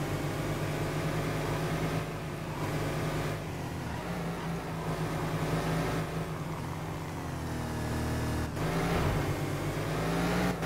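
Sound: Mercedes S 55 AMG car engine in World Racing video game

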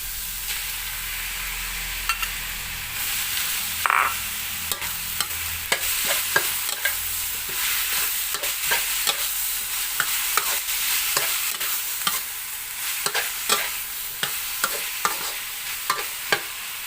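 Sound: stir-frying pork and tomato in a pan

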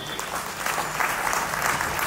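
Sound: audience applause at music academy annual function

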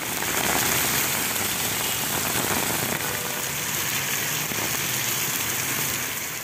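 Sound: heavy rain falling in North Chennai

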